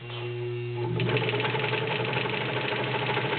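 A Vigorelli Robot sewing machine with an all-metal body and 1.3 amp motor runs a straight stitch, a close, smooth, rapid mechanical whirring that speeds up after about a second and keeps a quick, even chatter.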